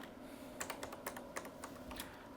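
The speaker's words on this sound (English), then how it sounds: "so I'll type in" Keys clatter on a 1990 Amstrad PC3086 computer keyboard, a quick irregular run of light clicks and taps, close and fairly quiet with no voices.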